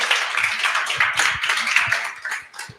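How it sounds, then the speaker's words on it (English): Audience applause for Connie at the HerStory Summit in Washington DC, a dense, steady patter of many hands clapping close to the microphone for a few seconds, thinning out at the end. "Please give her a hand of applause"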